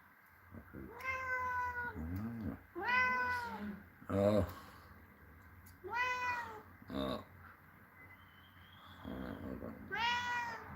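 A cat meows repeatedly, several drawn-out cries spaced a few seconds apart, close by, with a person briefly murmuring between them.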